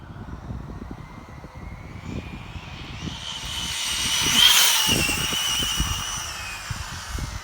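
A Traxxas Slash 4x4 RC car fitted with a 34-tooth pinion gear runs at speed outdoors. Its high motor whine rises as it nears, peaks midway and fades as it pulls away over steady rumbling background noise.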